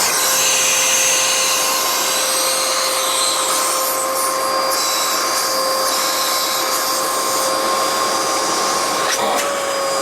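A Bissell Powerglide Pet vacuum cleaner runs loud and steady at close range, with a constant high motor whine and airy suction hiss. Its suction is weak because the release valve is stuck open, and the drone continues unbroken throughout.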